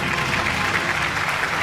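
Audience applauding at an annual award show in Pakistan, a short burst of dense, steady clapping.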